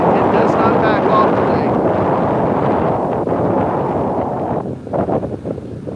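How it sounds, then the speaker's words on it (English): Strong, gusty wind at the beach with surf, a loud continuous roar buffeting the microphone, easing slightly near the end where a voice briefly speaks. "that wicked wind is why you see the surf like this"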